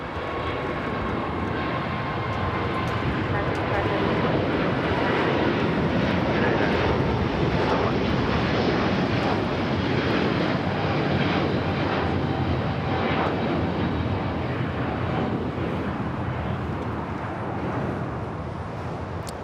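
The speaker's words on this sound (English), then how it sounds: "China Airlines A350 taking off here." A China Airlines Airbus A350 takes off at Los Angeles International Airport, a broad, steady jet roar that holds loud and even for the full stretch without fading.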